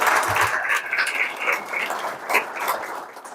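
Audience applause at a guide dog graduation ceremony, a moderate, uneven patter of clapping that swells and dips over a few seconds with no talk over it.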